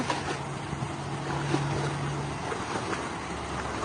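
A water pump pushes out a strong flow of water, giving a steady, dense rushing and hissing wash with a faint low hum underneath, continuous throughout and close by.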